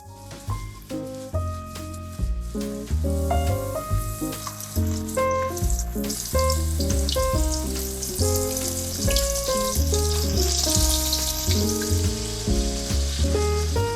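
Pork chops sizzle and crackle steadily in a hot pan under a bed of melodic background music.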